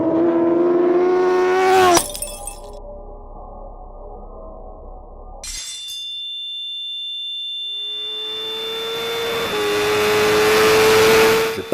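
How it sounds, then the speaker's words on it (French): A Kawasaki H2R motorcycle accelerates through the gears with a whining engine tone that climbs in pitch. The sound cuts abruptly to a thin, steady high tone, then another long rising pull builds to a loud peak. "Je passe la 5e et la moto me colle encore au fond de la selle"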